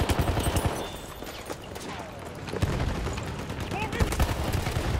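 Gunfire in the Battlefield 1 multiplayer game on Xbox One, a rapid run of shots early on then scattered bursts amid battle noise, moderately loud and close.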